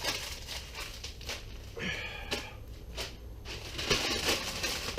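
Paper sheets crumpled into balls by hand for a Halloween body bag prop, giving bursts of crackling and crinkling that come and go over a low background, close up, with no speech.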